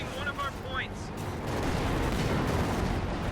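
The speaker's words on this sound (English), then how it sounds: "We'll detonate some of his own S mines." S-mines going off in Company of Heroes 2, a dense rumbling blast that swells and holds as a broad roar after a short stretch of talk.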